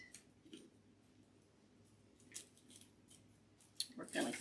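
Scissors snip while a wood bead wreath with a butterfly is being made: a few quiet, sparse cuts, with a cluster of louder snips near the end, close by in a calm room.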